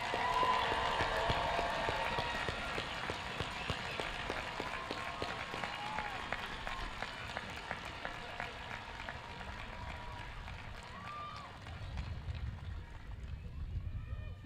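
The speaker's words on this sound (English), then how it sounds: "How about one last round of applause for our graduates?" Audience applause for graduates at the Methacton 2024 graduation ceremony: dense, sustained clapping from a large crowd throughout, slowly thinning toward the end.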